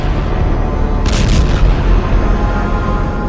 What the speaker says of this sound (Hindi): लेबनान के ये धमाके